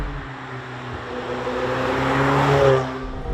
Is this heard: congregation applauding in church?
no